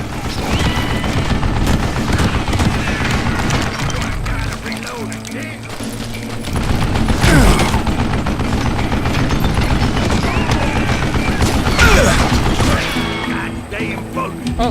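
Gunfire from a mounted gun in the western shooter game Call of Juarez Gunslinger, loud dense rattling bursts nearly continuous throughout, with mechanical clatter and game effects layered in and a voice speaking at times.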